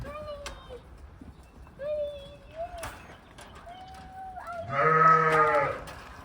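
Lambs bleat several times before shearing, in an outdoor farm setting, with birds calling in the background, and one loud, close bleat near the end.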